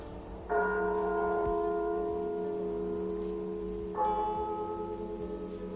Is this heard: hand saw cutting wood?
no